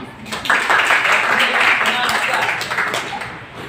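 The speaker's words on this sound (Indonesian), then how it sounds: "Tepuk tangan kasih Alif yang di sana dulu." Children in a classroom clap for a classmate during a lesson, a steady, busy patter of many small hands lasting a few seconds, close and fairly loud with a teacher's voice and chatter mixed in.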